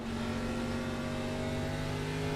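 A race car engine in a Richmond Grand National Series racing video game drones continuously at steady volume, with layered harmonic tones and no breaks.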